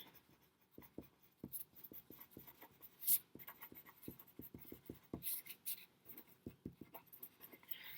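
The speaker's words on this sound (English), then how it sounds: "So make sure you write that number down." Writing on paper, rendered as a quiet, steady run of soft scratchy strokes with brief pauses between words and one sharper tap midway, heard alone with no talking.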